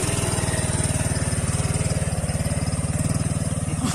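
A mountain ojek motorcycle on Gunung Kelud runs close by, its small engine thumping in a rapid, even putter that holds steady throughout.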